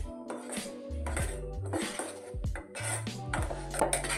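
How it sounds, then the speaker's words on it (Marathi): A utensil scrapes and knocks against a pan as a thickening sweet filling for karanji is stirred continuously, producing soft repeated clinks and scraping under quiet kitchen noise. "तर इथे बघू शकता सतत हलवत राहायचं आहे, नाहीतर ह्याला खाली चिटकण्याची शक्यता असते"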